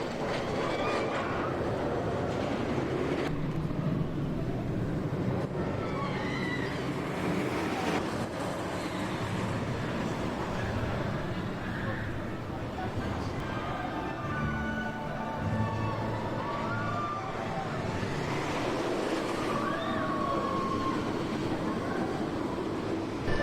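Zadra wooden roller coaster ride at Energylandia, a continuous loud rumbling roar of the train on track throughout, with rattling and wind noise and faint rider voices mixed in.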